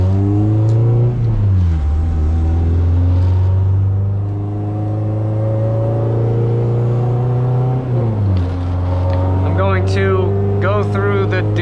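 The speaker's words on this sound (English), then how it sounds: "this car is a little bit loud" A Honda CRX with a B17 engine revs loudly nearby, its exhaust rising and falling in pitch between steady droning holds. Someone talks over the engine near the end.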